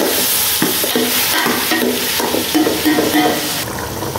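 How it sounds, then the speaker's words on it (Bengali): Onion, garlic and tomato fry together in a pan, a loud, dense sizzle with stirring scrapes running throughout, close up and without voices. "রসুনটা একটু কষা হবে, পেঁয়াজ রসুন টমেটো একসাথে দেওয়া হয়ে গেছে সবগুলা"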